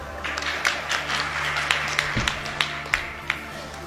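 Audience applause at a political speech in India, a dense burst of clapping with sharper individual claps standing out, fairly close and continuous, with faint voices underneath.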